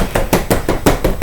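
A spoon mixing sugar liquid for strawberry shortcake in a bowl, with about seven evenly spaced, knocking strokes in a quick regular rhythm, close and fairly loud.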